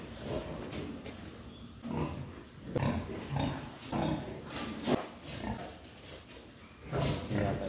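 Pigs raised in a pen give off repeated grunts and squeals in intermittent bursts against a quiet background, moderately close but fairly faint.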